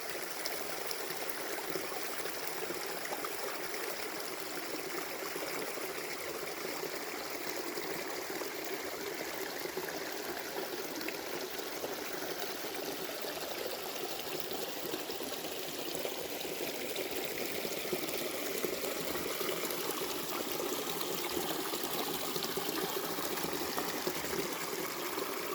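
Water pours and trickles steadily over rocks, a constant bright rushing hiss of a small mountain stream on the Appalachian Trail in October, without any voices.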